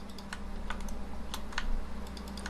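Computer keyboard keys are pressed in a quick irregular run of crisp clicks during 3D modeling work, close and clear over a steady low hum with no talk.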